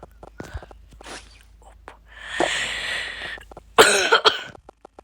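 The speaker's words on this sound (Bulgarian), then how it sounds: "И се извинявам, че кашлям." A person coughs several times in short, harsh bursts, the loudest fit near the end, with faint rustling and footstep-like knocks between coughs and no speech.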